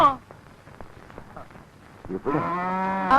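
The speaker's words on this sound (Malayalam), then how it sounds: "എന്തിനാടോ പശുവിനെ അഴിച്ചു വിട്ടത്?" A loose cow lets out a loud, long, low moo near the end, after a quieter stretch where people talk.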